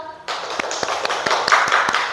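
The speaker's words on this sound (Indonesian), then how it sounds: "tepuk tangan untuk kelompok ekspor" Classroom applause for a student group during a primary school science lesson, several loud, close claps with sharp irregular taps standing out over a steady patter, starting abruptly and continuing without voices.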